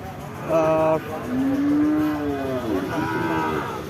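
A Friesian cow moos at the Chaugachha cattle market, a long, low, close call that swells and falls for about two seconds. Shorter animal calls come before and after it over the steady murmur of the crowded market.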